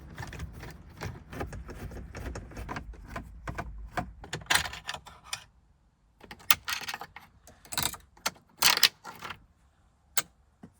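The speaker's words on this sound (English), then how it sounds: "I'm going to be using the longer screwdriver as well as a magnet to get the screws out" Small metallic clicks and taps as a long screwdriver and a magnet draw out trim screws on a Porsche 944 Turbo, close and intermittent, with scattered sharp ticks and short bursts of scraping.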